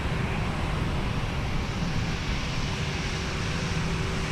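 A jet airliner departing runway 17 at Minneapolis–St. Paul airport, heard as a steady, continuous broadband engine roar with a low hum, unbroken and fairly loud throughout.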